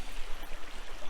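Creek water flowing at a North Georgia prospecting spot, a close, steady broadband rush and babble with no talk.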